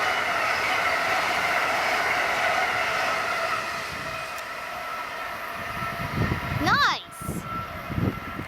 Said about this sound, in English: That was Amtrak 86 to Boston from Richmond.